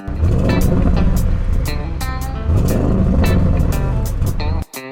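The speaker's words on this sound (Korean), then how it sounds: "확실히 우러나오는 소리는 있는데 왠지 느낌상 이 머플러가 크다 보니까 왠지 소리가 더 커지는 듯한 느낌도 든다는 점" A 2021 Audi RS7 V8 exhaust roars through its large-diameter RS muffler, loud and close, holding a steady, dense rumble with a brief dip near the end.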